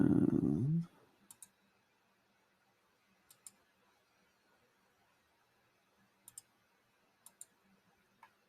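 Computer mouse clicks while working in video editing software: quiet, crisp double clicks in a few separated pairs over a near-silent background, following a short burst of speech at the start.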